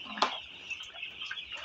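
Six-day-old broiler chicks in a poultry shed give short, thin peeping calls, one sharp peep standing out near the start among softer chirps over a faint steady background hum.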